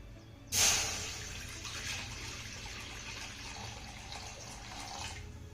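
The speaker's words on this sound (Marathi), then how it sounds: "आता यामध्ये आपल्याला दोन ग्लास पाणी घालायचं आहे" Two glasses of water splash abruptly into a pan and keep pouring steadily, a close, continuous rushing stream that fades slightly near the end.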